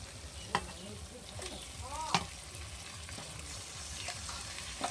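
Chicken meat goes into a spice paste frying in oil for a village-style chicken and potato curry, a faint steady sizzle with a few soft clinks and stirring scrapes.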